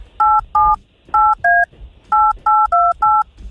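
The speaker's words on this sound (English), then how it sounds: "Oh, that fake dial back" Telephone dialing tones during a callback, a rapid series of eight loud DTMF beeps in two quick groups, clear and close.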